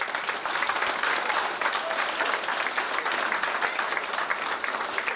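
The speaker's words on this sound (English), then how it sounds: "I think he deserves a round of applause." Sustained round of applause from a dinner-dance crowd in a hotel function room, dense steady clapping filling the whole stretch at moderate distance without pause.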